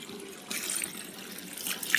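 Water pouring from a container onto potted plants, among them a large tulsi plant, on a sunny rooftop, heard as a steady close splashing trickle that starts about a quarter of the way in and runs to the end.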